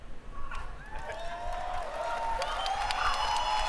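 A large crowd at Gamescom cheers and applauds: a continuous roar of clapping, shouts and whistles that builds slightly toward the end.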